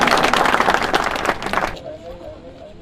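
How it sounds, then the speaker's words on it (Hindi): A crowd at a Congress party workers meeting in Dali Udyanpur bursts into dense, loud applause to welcome a speaker, and the clapping dies away after a couple of seconds into a quieter murmur. "तालियों के साथ इस्तकबाल कीजिए उर्फी मजीद वानी साहब"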